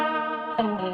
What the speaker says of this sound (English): this one here is called Leslie. So you're going to hear there's going to be like a rotary sound.